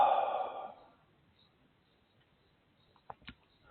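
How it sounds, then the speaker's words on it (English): One long, slow, deep exhalation sighs out close to the microphone, fading over about a second into near silence, followed by a couple of faint soft clicks. "take a few long, slow, deep breaths and just let go"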